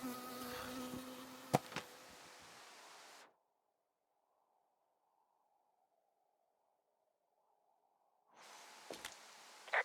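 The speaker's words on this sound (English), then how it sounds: "I got stung by a bee." Insect buzzing of a bee in the Firewatch video game, a steady close drone lasting a few seconds, cutting to silence midway and returning briefly at the end.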